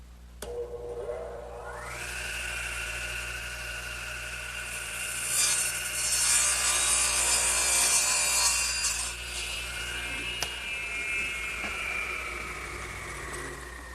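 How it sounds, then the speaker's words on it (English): A radial arm saw spins up with a rising motor whine, then cuts through two wooden pieces at once, nibbling out material for a half-lap joint on a table leg assembly. A loud, rough sawing rasp over a steady motor hum is heard alone, with no talking. "I'm going to cut both pieces at the same time here with my radial arm."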